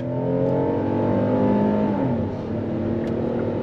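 A 2022 Kia Telluride's naturally aspirated V6 pulling hard through a turn in sport mode: a steady, close engine drone with layered harmonics that rise and ease slightly partway through, heard from inside with no talking.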